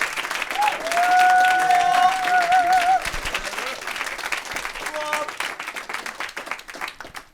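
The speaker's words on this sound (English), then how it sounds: "One more earth-shattering round of applause for Rob Parton." A recital audience gives a long round of clapping for a senior recital performer, with a pitched whistle or whoop rising above the dense applause early on before it gradually thins out.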